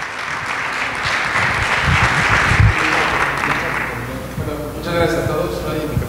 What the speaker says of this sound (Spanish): Demos un aplauso